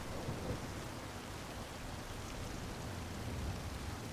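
A heavy thunderstorm in the driving game Forza Horizon 5 gives a steady, dense wash of rain with low rumbling thunder underneath, faint and continuous with no voices.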